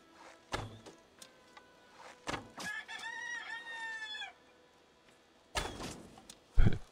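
Hens cluck in Assassin's Creed Valhalla and a rooster-like crow rises in the middle, framed by several sharp thumps before and after; no voices.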